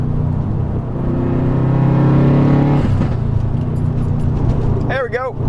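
A race car accelerates hard, its engine rumbling loudly and climbing in pitch through the gears before easing off, with someone talking close by over the engine noise.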